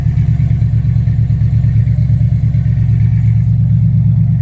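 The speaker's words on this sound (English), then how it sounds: "It has a Flowmaster exhaust, Super 10." A 2012 Dodge Charger idles through a Flowmaster Super 10 dual exhaust with the resonator still on, a loud, steady, deep rumble that throbs evenly throughout.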